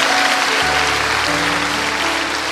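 A church congregation applauds during a sermon, dense steady clapping filling the whole stretch while a sustained keyboard or organ chord plays underneath.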